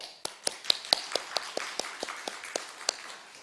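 Sparse, evenly spaced claps from a small church congregation during a Sunday worship service, a dozen or so sharp slaps in a steady rhythm at moderate distance, with no talking.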